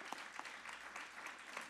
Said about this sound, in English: So if we could give a round of applause to all that might be in attendance.